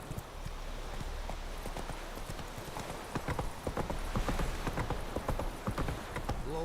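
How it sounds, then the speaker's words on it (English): Horse hooves clip-clop at a quick galloping rhythm in The Witcher 3 video game, steady and fairly close, growing a little louder toward the end, with no talking. "Whoa there, Roach."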